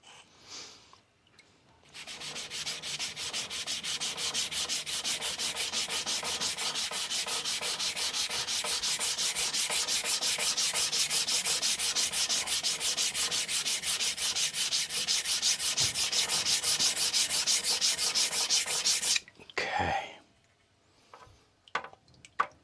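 Knife steel grinding against a coarse 200 grit whetstone while thinning an Aogami 2 bunka: a steady, dense rasping scrape of quick back-and-forth strokes lasting most of the stretch, close and loud, ending with a few brief knocks.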